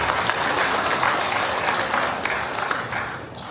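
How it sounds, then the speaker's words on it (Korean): A crowd applauding loudly and steadily at a public gathering to welcome a county head, many hands clapping together in a dense, continuous burst. "김동곤 군수님을 큰 박수로 환영해 주시면 고맙겠습니다"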